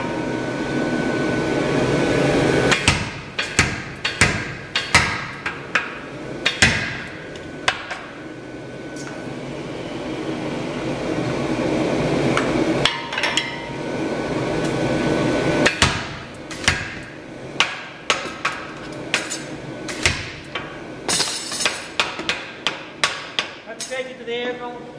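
An Electrofunk 65 power hammer striking, with a motor running under a string of loud, sharp blows, some isolated and others in quick bursts, close by.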